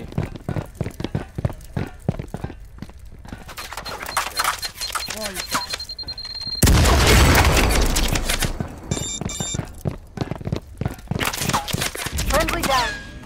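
Gunfire and grenade blasts in the tactical shooter video game Firewall Zero Hour, with a loud sustained explosion rumble in the middle and scattered shots around it, while players talk over team chat.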